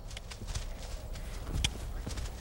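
A Suffield horse walks with a steady clip-clop of hooves, several distinct steps at an unhurried pace, fairly close, with one heavier footfall near the end.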